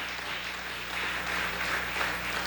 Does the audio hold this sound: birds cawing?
no